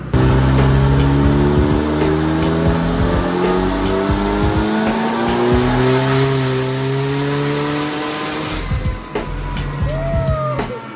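A twin-turbo Honda D16 engine in a Civic revs hard on a dyno, a loud sustained roar climbing steadily in pitch through a long pull, then dropping off with sputters and pops near the end.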